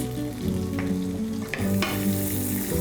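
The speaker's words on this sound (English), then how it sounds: "So now same oil जिसमें हमने steak पकाया था, उसी में I'll put some chopped shallots." Chopped shallots sizzle in the same oil a steak was just cooked in, a close, steady frying hiss with a few stir scrapes and no talking.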